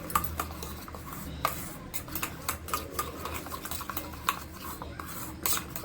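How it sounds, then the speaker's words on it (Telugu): A spoon mixes a fenugreek face pack with yogurt and a pinch of turmeric in a small bowl, giving soft continuous stirring with light clicks and taps against the sides, close by and unaccompanied by talk. "సో ఇప్పుడు వీటిని ఇలా మిక్స్ చేసుకోవాలి."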